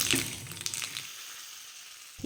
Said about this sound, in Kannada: ಕರಿಬೇವು ಒಗ್ಗರಣೆ